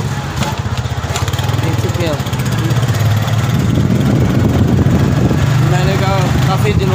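A motorbike ridden in hot sun on a trip to the store hums with a steady mid-pitched engine throb that rises slightly in loudness, heard close up, with a voice talking over it.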